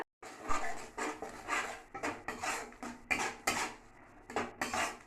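A utensil stirs spice paste in a cooking pan, giving repeated scraping and clinking strokes in a quick, irregular rhythm. The sound is close but fairly soft, with no talking.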